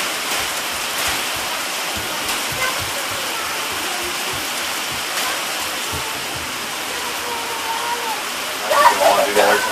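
Rain falls steadily outdoors while a child plays in the water, a constant hiss and patter with brief splashes and a louder splashing burst near the end. Voices talk over the rain.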